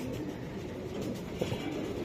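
Racing pigeons from a Bangladeshi racing club coo in a low, steady murmur, a soft continuous bed of overlapping calls with one brief louder note near the end.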